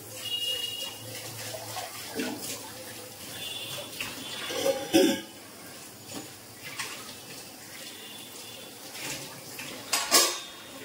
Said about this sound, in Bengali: ততক্ষণ আমি থালাগুলো সব ধুয়ে নেব